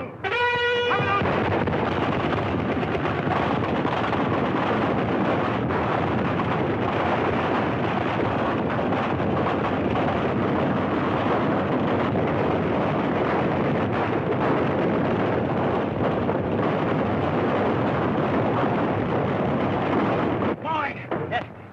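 Sustained loud battle-scene gunfire with machine-gun bursts, dense and continuous for about twenty seconds, with a brief rattling burst at the start and the roar thinning near the end.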